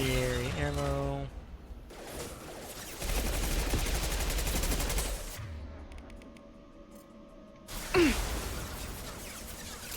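Incendiary-ammo gunfire in Mass Effect Legendary Edition 2, heard as loud bursts of shots mixed with game effects and combat noise. A short rising tone comes near the end.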